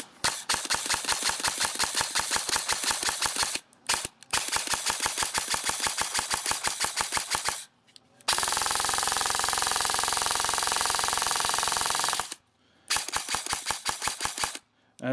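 Airsoft gearbox, a standard GMP unit with a high-torque motor, cycling on an 11.1 volt battery through a MOSFET: rapid evenly spaced mechanical clacks in fast bursts, then a long continuous whirring full-auto stretch, then another burst, close and loud.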